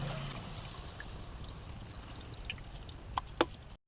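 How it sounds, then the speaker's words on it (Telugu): Tamarind juice poured into a pan while cooking an egg curry, a soft steady trickle and splash with a few sharper drips near the end, no voices. "ఇప్పుడైతే చింతపండు పులుసు పోసేసుకుందాం"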